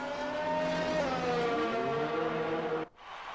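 Lewis Hamilton's Mercedes Formula 1 car at the British Grand Prix screams past on a lap, its high engine note sliding downward in pitch as it passes before cutting off abruptly near the end.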